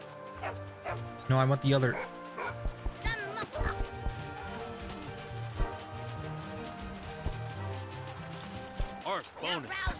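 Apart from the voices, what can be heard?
dog barking in the video game John Madden's Jerry Rice's Dog Football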